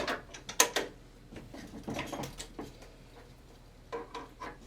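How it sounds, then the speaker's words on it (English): Tennis racket string being clamped on a stringing machine: a series of close, sharp mechanical clicks and clunks, irregular and bunched, with a short burst at the end. "And then I'll clamp, as usual, as close to the grommet as possible."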